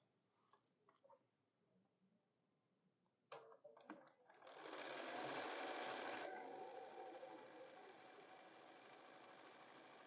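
A home sewing machine stitches quilt fabric scraps for a string quilt, starting after some faint handling clicks and a few taps, then a fast steady whirring motor runs for several seconds before easing off slightly, close and fairly quiet.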